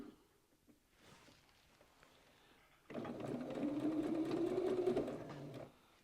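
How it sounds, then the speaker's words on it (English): A sewing machine stitches a quarter-inch patchwork seam joining half-hexagon fabric pieces, starting after a few quiet seconds and running as a steady, close mechanical whir for about three seconds before stopping. "So we're going to sew along there, and it'll be a 1/4 inch seam."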